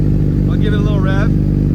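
A 2023 sport motorcycle engine, Honda CBR1000RR or Yamaha R1, blipped in one short rising-and-falling rev over a loud steady idle, close by.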